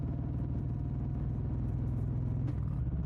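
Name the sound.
motorcycle engine humming on a night ride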